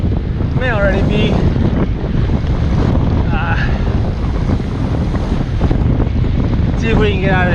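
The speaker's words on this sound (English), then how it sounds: "see if we can get out of this wind." Heavy wind buffeting the microphone with a loud continuous low rumble, while faint chirpy bird-like squeaks come and go above it.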